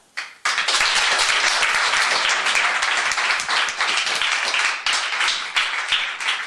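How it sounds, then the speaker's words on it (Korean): A seminar audience at a book-review lecture concert gives a loud burst of applause to welcome the lecturer. It starts abruptly after a brief quiet moment and stays dense and steady for several seconds. "우리 여기 건물이 터져나가게 큰 박수로 우리 강사님을 모시겠습니다."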